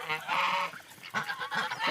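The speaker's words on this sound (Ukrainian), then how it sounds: "це мій старий гусак" An old gander honks loudly several times in quick, harsh bursts, close by, with brief pauses between the calls.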